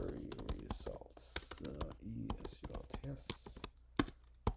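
Quick irregular clicks of a computer keyboard as a MongoDB query is typed, close and crisp, with a voice talking quietly in between the keystrokes.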